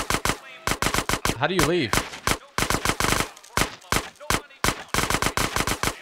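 SMG gunfire in GTA San Andreas, loud sharp rapid bursts repeating throughout with short pauses, while a person talks briefly in the middle.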